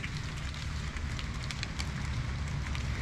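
Cold rain falls steadily, making a dense, even hiss with a low rushing undertone and no break across the few seconds.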